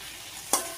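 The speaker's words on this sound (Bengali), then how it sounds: "এখন এই যে এখানে কাঁচা টমেটো, আলু, পেঁয়াজ দিয়ে এটা একটু চচ্চড়ির মতো করে নিচ্ছি" A pan of green tomato, potato and onion chochchori sizzles softly at home, then one sharp clatter of stirring utensil against metal cuts in before the hiss settles again.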